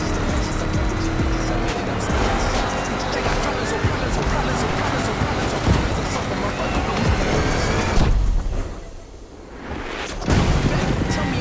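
A lifted, giant Mustang GT race car in The Crew Motorfest roars at high revs with tires squealing, loud and continuous, then briefly drops away before surging back, while a voice talks over it.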